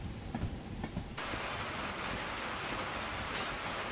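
Steady rain drums on a metal roof in the train game Derail Valley, a dense, even hiss that thickens after the first second and holds constant, with faint bumps underneath and no voices.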